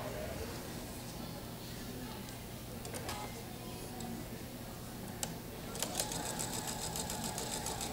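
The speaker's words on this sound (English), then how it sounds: "I am going to sew that seam right there" A sewing machine stitches a complete quilt seam along pieces placed right sides together, running as a steady mechanical whir close by. Sharper clicks and a quick ticking burst come near the end, and a voice talks at times.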